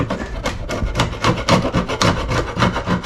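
Rhythmic rasping strokes scrape propolis off wooden beehive supers, roughly a dozen quick close scratches at an even pace with no voices.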